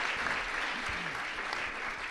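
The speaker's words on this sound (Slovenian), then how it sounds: "Ok, hvala, en aplavz." An audience claps at a talk evening in Slovenia, a dense, even round of applause that holds steady from start to finish with no voices over it.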